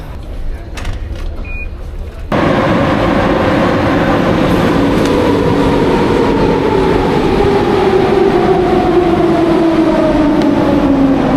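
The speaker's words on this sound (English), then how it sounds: "Super convenient, the metro here. Comes pretty fast" A metro train rolls through Omonia station in Athens, starting with a sudden loud rush that settles into a steady, close rumble with a slowly falling whine of motors as the train moves along the platform.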